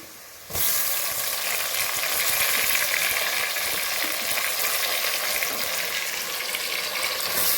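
Onions that have turned golden sizzle loudly in a pan as tomato goes in for a chicken biryani masala, a dense, steady frying hiss starting abruptly after a brief quieter moment and continuing without talk.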